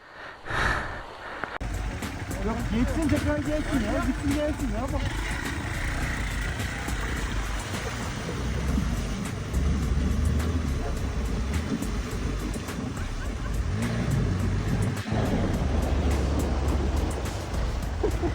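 A Hero XPulse motorcycle pushes through deep water, a steady rush of churning, splashing water and engine noise filling the whole stretch, with people talking over it.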